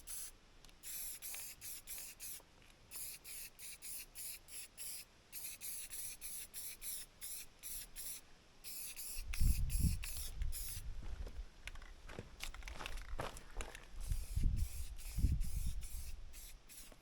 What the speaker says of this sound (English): I'm gonna spray paint that